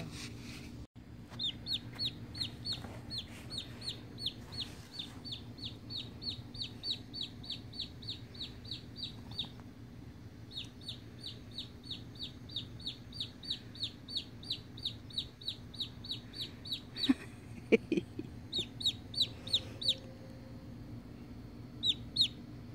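A chicken clucks in long runs of quick, rhythmic, close notes, with brief pauses between runs and a few louder squawks near the end, over a low steady background hum.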